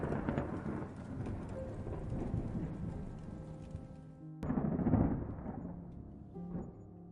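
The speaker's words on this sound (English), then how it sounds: "right here I'm lining up the thunder sound effects with the lightning" Thunder sound effects for a spooky Scooby-Doo ambiance scene: a long rolling rumble over rain, then a sudden sharp crack that swells into another heavy, decaying peal.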